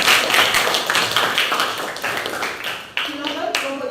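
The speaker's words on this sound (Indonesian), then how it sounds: "Kita apresiasi, tepuk tangan" Students in a junior high school science class clap together in a quick, loud patter of hands. A teacher talks over the applause.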